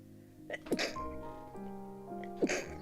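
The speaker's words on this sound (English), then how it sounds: "Oh, I did have to sneeze." A couple of short, abrupt sneeze bursts cut through soft background music, the first quick and the second sharper near the end.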